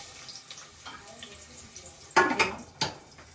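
Chopped onions tipped into hot oil in a pan for a mutton dish, a sudden loud sizzling burst with a second splash of frying noise, close up after quiet clinking.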